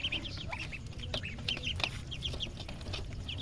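A flock of ducks feeding on chopped water spinach quack and chatter continuously, with many overlapping calls close by over a steady farmyard background.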